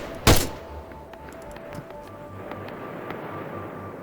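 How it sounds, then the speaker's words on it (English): In ArmA 3 a big gun fires once with a sharp, loud close report, leaving a faint low rumble and scattered distant pops with no voices. "That sounds like big gun noise."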